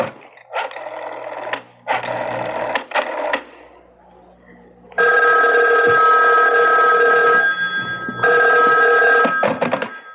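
Old-style telephone bell rings loud and close in two bursts of trilling rings, a short pause, then longer insistent rings, used as a sound effect in a mystery radio drama.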